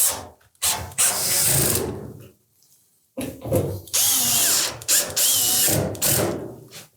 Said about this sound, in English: And all the 4 screw holes should line up. We'll install those next.